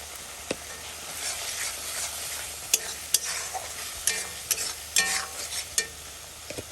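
Duck meat sautéed in a pan with green chilies, scraped and stirred by a spatula in repeated sharp strokes over a continuous sizzle, close and without voices.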